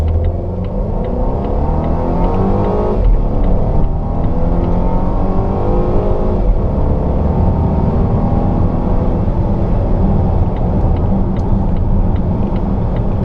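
A 2016 Volvo XC90 T6 R-Design SUV with a 4-cylinder engine accelerates hard in dynamic drive mode, its loud droning engine note climbing in pitch and dropping at gear changes, heard steadily from inside the cabin.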